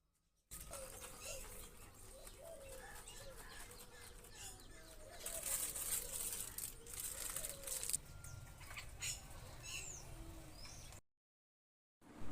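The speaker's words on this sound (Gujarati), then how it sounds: "જો મિત્રો કેટલા બધા ચકલા આયા ખાવા આયા છે." Sparrows flock in to eat scattered gathiya snacks outdoors, giving a steady stream of small chirps and twitters at moderate distance over a constant background hiss, with a few brief louder bursts.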